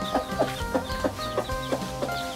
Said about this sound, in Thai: แล้วนี่จะพาไปดูลูกไก ่กับไก่แม่ไก่กับลูกไก่นะคะ